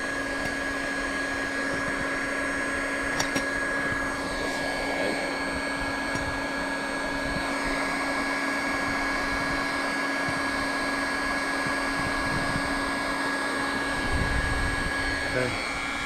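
A hot air blower roars in a steady, continuous whoosh with a high whine, heating RV roof membrane material up close for a long stretch, with a voice talking faintly in the background.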